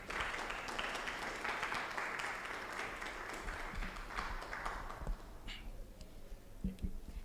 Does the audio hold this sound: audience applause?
yes